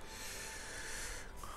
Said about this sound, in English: every time I read, some reason it blocks at my nose. And I have to sniffle.